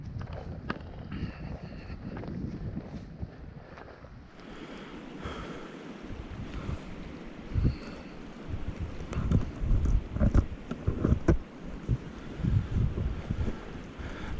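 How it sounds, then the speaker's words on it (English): Gusty wind buffets the outdoors during a fly fishing outing in the Laurel Highlands, a constant rushing roar with louder irregular gusts. "A lot of wind up there today."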